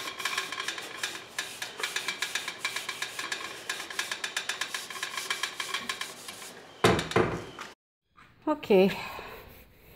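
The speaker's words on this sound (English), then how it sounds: "So I'm buffing my headboard here. And it is nice and smooth, shiny," Chalk-painted wooden headboard being buffed by hand, a steady run of rhythmic rubbing strokes up close, then a pause and a few knocks and scrapes, with a brief spoken word.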